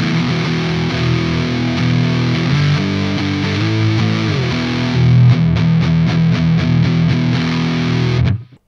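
Heavily distorted electric guitar played through a full-rig capture in Neural Amp Modeler, dense sustained chords ringing loud and alone for several seconds before abruptly cutting off.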